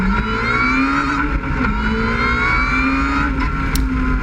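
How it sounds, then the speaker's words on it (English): An Ariel Atom 3 accelerates hard and close, its engine note climbing steadily with a loud, wild supercharger and intake whine rising above the roar throughout. "the acceleration on the car is pretty addictive, and that intake and supercharger whine is pretty loud and wild"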